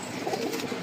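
Lotan pigeons cooing softly in a loft among many other pigeons, a low continuous murmur of overlapping coos with no talk.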